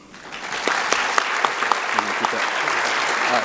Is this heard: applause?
yes